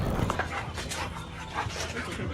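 Dogs going after a thief, with panting, whimpering and short yips close by amid scuffling noise, while a voice briefly talks underneath.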